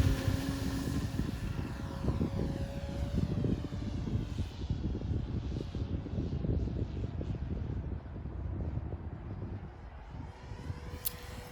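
A Hangar 9 J-3 Cub electric-powered RC scale model airplane flies overhead, its motor and propeller giving a continuous droning whine that rises and falls slightly as it passes outdoors.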